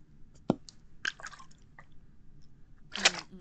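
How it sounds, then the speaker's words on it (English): A swig of water from a Powerade sports bottle with a nozzle, a few close, quiet wet gulps and squishy mouth sounds spaced across a short stretch, with a louder sip near the end. "I'm drinking water out of a Powerade bottle with a nozzle"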